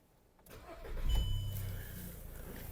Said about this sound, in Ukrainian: Мотор завівся з півтику.